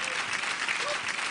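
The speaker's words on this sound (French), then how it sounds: "Allez, applaudissements." Steady audience applause in a French television quiz show studio, continuous and fairly even throughout a short burst.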